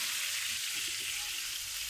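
A steak cooking in a pan makes a soft, continuous sizzling hiss that stays even and fairly quiet from start to finish, with no talking.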